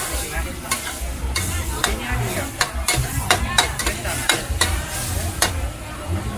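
Pad thai is stir-fried in a wok at a busy street stall, a steady loud sizzle broken by sharp metallic scrapes and clanks of the spatula against the pan in an uneven rhythm.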